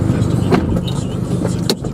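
A 2008 Mazda Speed3 turbo runs in a parking lot, recorded from inside on the dash, its engine a steady, close, low drone with a few faint clicks and rattles and no talk.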